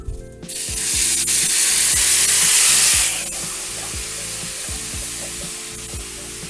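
Apple cider is poured into a hot pan of seared chicken breast, setting off a loud, steady sizzle that swells for a few seconds and then settles into a softer frying hiss, with a few light scrapes and taps from the pan.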